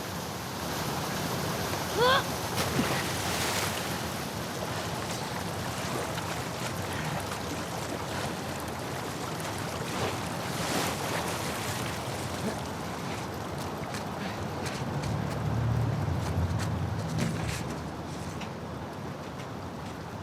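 Rushing sewer water in The Last of Us Part II, a fast-flowing torrent pouring through a pipe-lined tunnel, heard as a steady broadband roar throughout with no voices over it.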